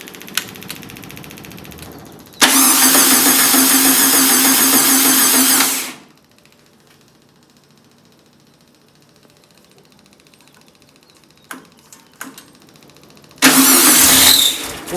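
A 1965 VW Beetle engine cranks loudly for about three seconds, falls silent, then cranks again near the end in a brief steady burst without catching.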